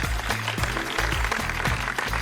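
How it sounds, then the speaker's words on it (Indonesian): An audience at a talk show on digital philanthropy campaigns gives short, lively applause. The claps are close and come in dense, uneven bursts with a low rumble under them. "Tepuk tangan ya."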